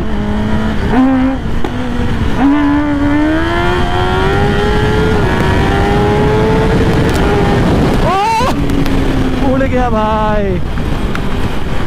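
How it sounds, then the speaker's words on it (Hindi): A Kawasaki ZX-10R superbike revving hard while pulling a wheelie, the engine pitch climbing in long rising sweeps, briefly cut, then surging again, loud and close with wind buffeting. "ये दिखाएंगे आप लोगों को wheelie Z x ten are पे देख रहे हो भाई व्हीली"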